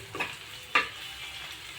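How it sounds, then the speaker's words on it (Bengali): Dried red chillies frying in oil in a pan give a quiet, low sizzle broken by two short bursts of stirring, one near the start and one just before the middle. "এই যে শুকনো মরিচটা ভেজে নিলাম এই যে বন্ধুরা দেখুন সুন্দরভাবে ভাজা হয়ে যাচ্ছে"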